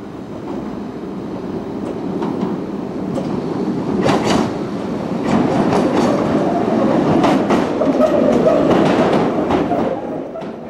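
Isle of Wight train unit in London Transport red running on rails, a sustained rumble with rhythmic clickety-clack of wheels over joints, growing louder midway with no speech.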